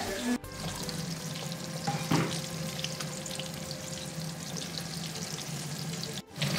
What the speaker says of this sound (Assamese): এয়া চোৱা মাছটো ফ্ৰাই হৈ গৈছে